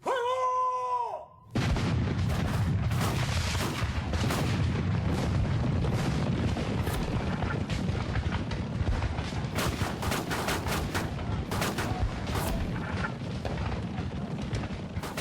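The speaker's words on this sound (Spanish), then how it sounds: "se escuchó el primer cañonazo" Loud, continuous booming and crackling blasts of cannon fire, heavy and sustained for most of the clip after a brief tonal sound at the start.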